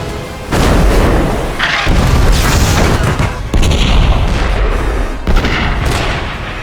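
Naval artillery fires on the battleship Bismarck in a relentless barrage of loud, overlapping booms and blasts that follow one another with hardly a pause.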